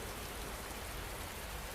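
Rain falls in a steady, even hiss with soft patter, close and unbroken, with no talking over it.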